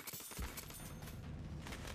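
In the 3 Dancing Monkeys slot video game, a firework effect bursts into a dense, crackling fusillade of pops and bangs that keeps going for the whole stretch at moderate volume.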